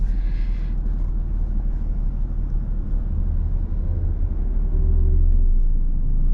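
A Nissan 370Z fitted with a stage 3 road race clutch pulling away, a steady low engine rumble heard from inside the car, loud and continuous with a slight rise in level toward the end.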